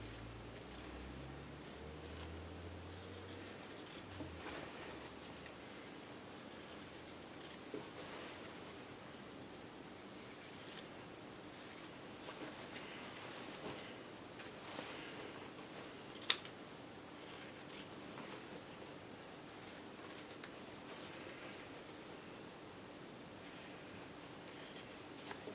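Fabric scissors trim the seam allowance and clip the curves of a reversible A-line dress, giving faint, scattered snips over a soft steady hiss.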